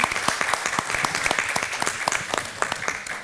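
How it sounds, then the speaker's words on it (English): Audience applause for a panel at a symposium on bioengineered enzymatic degradation, a crowd of distinct individual claps rising together into a steady, moderate ovation. "So a round of applause for our panel."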